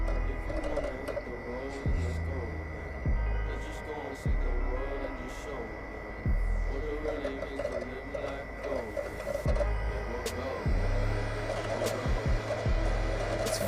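Xbox 360 console running loudly while a game starts up, giving a steady whirring fan and drive hum with a mains-like tone and periodic low thumps, while a person talks over it.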